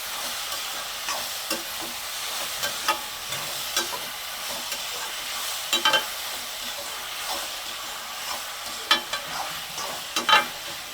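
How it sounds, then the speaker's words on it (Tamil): Tomatoes sautéing in a pan for a prawn gravy: steady hissing sizzle throughout, with occasional soft scrape and stir knocks near the microphone and no talk. "தக்காளி நல்லா வதங்கணும்."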